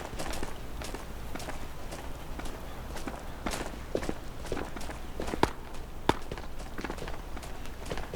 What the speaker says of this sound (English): I hear his footsteps running. Sounds like he's chasing me on the other side of the wall here.